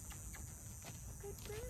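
Cicadas drone steadily outdoors in a high, constant buzz beneath a voice talking during horse training.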